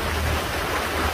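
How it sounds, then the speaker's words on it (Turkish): A dense, steady hiss of heavy rain pours continuously on a boat at sea, broad and unbroken, with no other sounds standing out. "Şu anda zaten yağmurun sesini duyuyorsunuzdur herhalde."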